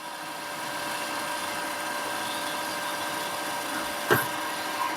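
A machine, likely a lathe, takes a fine one-millimetre cut off a handmade custom bike shaft, giving a steady, even mechanical drone throughout with one brief sharp knock near the end.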